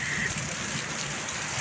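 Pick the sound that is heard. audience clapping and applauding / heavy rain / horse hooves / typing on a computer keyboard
heavy rain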